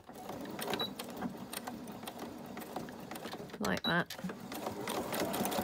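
A sewing machine stitches vellum onto a paper envelope, its steady close whirring broken by a brief pause near the end, while someone talks over it.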